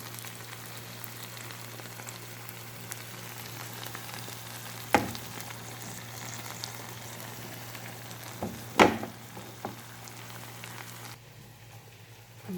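Fish fries uncovered in a pan with a steady, soft sizzle, broken by a few sharp pops and clinks midway, with no talk over it.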